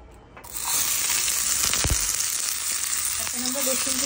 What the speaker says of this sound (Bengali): এই যে এখন আমরা বাগার দিয়ে দিচ্ছি